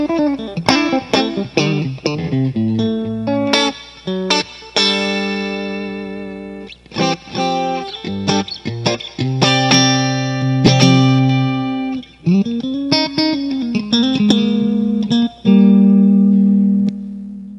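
An electric guitar, a Stratocaster, played through the clean channel of a Fuchs ODSII amplifier with no drive, ringing out loud and close in chords and single notes with bends and sustained tones.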